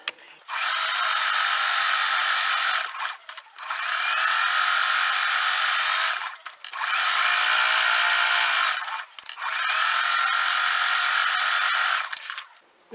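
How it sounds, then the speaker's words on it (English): A sewing machine stitches close to the edge around a crazy quilt block, running in four sustained whirring bursts of a few seconds each, separated by brief pauses, close and fairly loud. "now I'm going to go sew close to the edge all the way around"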